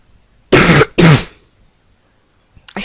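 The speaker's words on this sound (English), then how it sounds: "Should really turn my microphone off when I cough." Two loud, close coughs in quick succession straight into a microphone, followed by near silence and a faint noise at the end.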